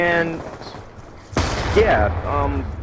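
Video game shooter gunfire erupts as a sharp burst partway through, followed by continued rattling shots and noise, with a voice faintly present beneath.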